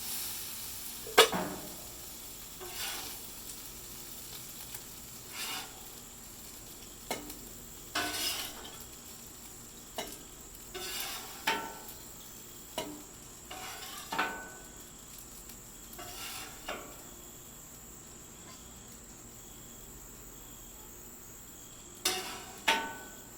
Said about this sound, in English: we'll go over here in this bigger bowl and move my fried rice off